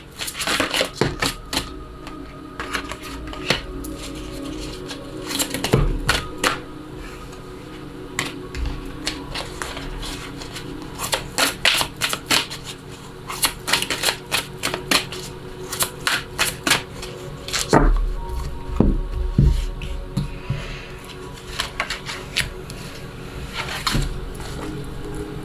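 Tarot cards are handled, shuffled and laid out on a surface, with close, crisp flicks, slaps and soft rustles in irregular bursts, some sparse and some in quick runs.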